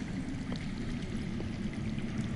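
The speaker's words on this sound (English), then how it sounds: "That's water. I hear water. From underground." Underground running water in the Game of Thrones video game: a steady, faint rushing stream with a soft trickling wash that continues unbroken and alone.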